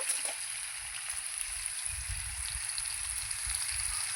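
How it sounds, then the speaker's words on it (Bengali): Potatoes frying in oil with a pinch of salt, the first step toward a hilsa fish curry, give a steady close hiss of sizzling with soft crackles and low bubbling throughout, no voices. "আমি ইলিশ মাছের ঝোলটা করার জন্য আমি প্রথমে আলুটা ভেজে নেবো একটু লবণ দিয়ে দেব"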